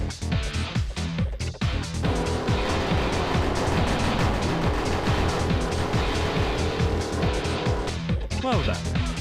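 Race cars in the video game Hotshot Racing roar at high revs with repeated gear-shift swoops and tire squeal, engines loud and continuous, the pitch sweeping up and down as the cars speed along.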